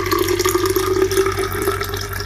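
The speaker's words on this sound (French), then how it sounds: "J'ajoute de l'eau." Water runs steadily into a container holding vegetable charcoal, a continuous close trickling and splashing with no voices, lasting about two seconds.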